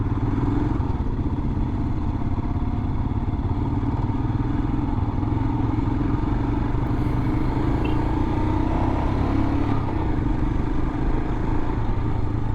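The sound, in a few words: 2021 Royal Enfield Himalayan motorcycle riding on street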